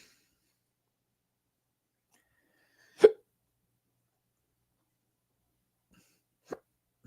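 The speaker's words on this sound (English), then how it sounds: "I got hiccups, sorry" A person's hiccups during a quiet live stream: one sharp, abrupt hiccup near the microphone, followed by a second, softer one a few seconds later against silence.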